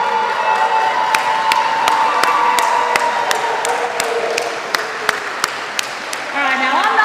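Audience at a school Hall of Fame induction ceremony applauding and cheering steadily, sustained crowd noise with sharp claps and whoops throughout, voices in the room underneath.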